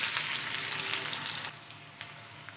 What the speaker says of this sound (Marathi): कांदा लालसर होईपर्यंत परतवून घ्यायचा